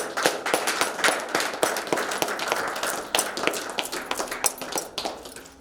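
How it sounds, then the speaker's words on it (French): An audience at a memorial gathering claps steadily together, a close, dense patter of many hands that keeps going evenly throughout. "Applaudissons pour le membre de l'Ocadi qui est couché."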